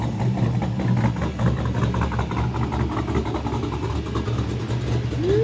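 Street-registered Mazda RX-7 FC with a swapped V8 engine running nearby, a deep steady idle rumble with a low vibrating drone and faint background activity.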